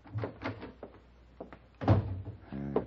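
A desk drawer in an old-time Western radio drama sliding open with a series of wooden thunks and knocks, then a heavier bump and rattling scrape, close and with no voices.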